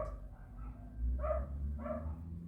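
Two sharp dog barks ring out about half a second apart over a low background hum, with no talking.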